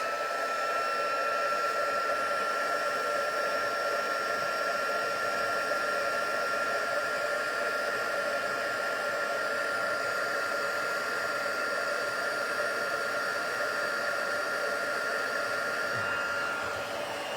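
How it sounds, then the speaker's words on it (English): A heat gun melting embossing powder on a Christmas tree card blows a steady, continuous whooshing roar with a faint whine, running unbroken for the whole stretch. "won't take long to heat emboss this"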